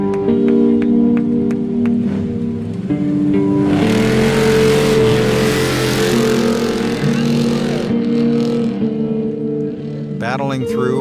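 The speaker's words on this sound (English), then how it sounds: "the first trophy truck makes its way through the checkered flag in La Paz" A Baja 1000 trophy truck's race engine drones and revs as it crosses the checkered flag in La Paz, loud with shifting engine tones, a roaring surge in the middle, and talk over it.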